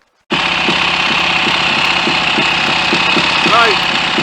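A Triton motorcycle engine, hot after an oil leak repair, fires up and settles into a loud, close, even idle with a steady lumpy pulse and no talking.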